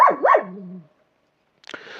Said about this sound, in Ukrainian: не гавкай, тут же ніхто не ходить